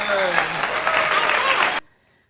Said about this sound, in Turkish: Sana kocaman bir alkış.